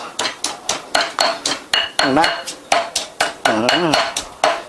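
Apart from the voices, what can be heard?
pounding chili in mortar and pestle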